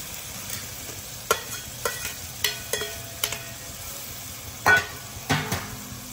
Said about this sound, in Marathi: आता त्यात आपण घालणार आहोत फ्राय केलेले आपले व्हेजिटेबल्स